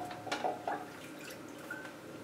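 Water drips from a freshly watered orchid pot, a few soft separate drops early on, then quieter trickles, faint against a quiet room.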